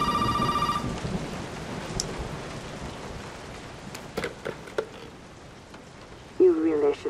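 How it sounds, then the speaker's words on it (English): A telephone rings in the video game Resident Evil 7 over steady rain and rumbling storm, a brief electronic ring at the start then quieter stretches, with a voice speaking near the end. "Let's go pick up the phone."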